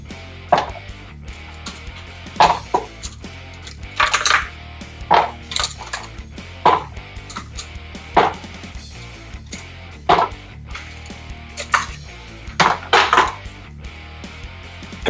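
Ice cubes being dropped into a container for a lime drink, about two cups' worth, with a string of hard clinks and clatters at irregular intervals, close and fairly loud, no talking.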